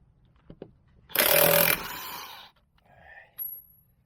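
A Craftsman battery power tool, used while changing struts on a Jeep Liberty, fires in one short loud burst lasting about half a second, then whirs down, with a few faint clicks and quieter handling noises afterward.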